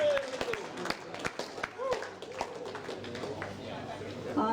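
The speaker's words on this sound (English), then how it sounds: "Lyndall Morphett, big round of applause." Applause rises for the 2015 women's singles champion at a national finals event, with scattered claps, crowd chatter and talking over them, fairly close and moderate in level.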